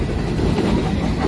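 A freight train with a Conrail hopper car rolls past close by, a loud, continuous rumble of wheels and cars with no break.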